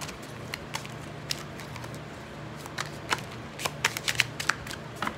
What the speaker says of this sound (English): So let's pull some love oracle cards.